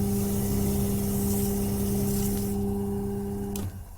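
Motorized wax buffing wheel for heel veneer finishing, spinning with a steady droning hum and broad hiss, then winding down near the end; no speech.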